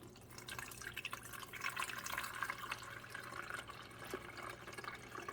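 Water pours steadily into the reservoir of a Hamilton Beach smart coffee maker, a continuous splashing fill with no talking over it.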